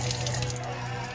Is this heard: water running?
yes